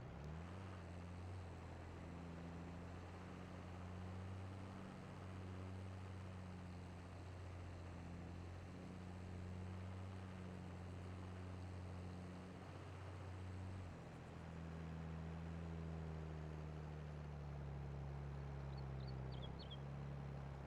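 Tractor in Farming Simulator hauling a plow through a field, its engine droning steadily and loud with low harmonic tones, shifting pitch slightly partway through as the load changes, no voices over it.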